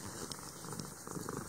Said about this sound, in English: Already purring.